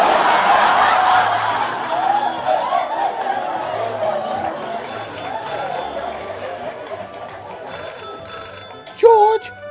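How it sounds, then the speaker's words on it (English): An old-fashioned home telephone bell rings in repeated short pairs of bursts, fairly close, while people talk over and between the rings. "will you answer the damn phone?"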